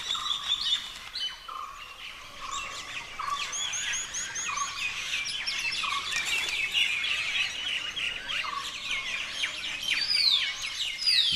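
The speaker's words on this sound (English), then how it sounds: "The birds, miners and blossom-headed parakeets, get much-needed nourishment from the flowers." Miners and blossom-headed parakeets call busily while feeding on nectar in flowering trees during a hot, dry season, a dense overlapping chorus of chirps and squeaky calls that continues throughout.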